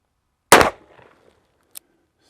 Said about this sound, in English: Been a long time since I shot handgun, revolver at 25 yards.